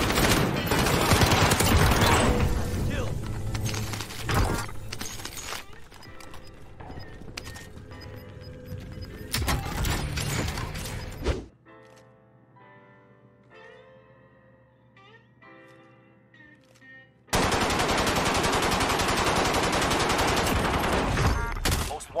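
Assault rifle fire in the Warzone battle royale game, loud rapid bursts and volleys with a quieter lull in the middle before heavy sustained shooting resumes.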